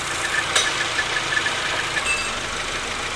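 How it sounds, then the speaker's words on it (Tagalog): A car engine idling roughly with one ignition coil disconnected, so a spark plug stops firing; a steady, uneven mechanical drone with faint ticking, close up and without talk. "Oh, nanginig ang makina."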